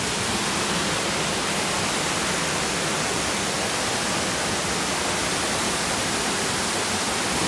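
Water gushing powerfully at a bathing spot in Bali: a loud, unbroken roar of rushing water, broadband and steady from start to finish, with no other sounds standing out.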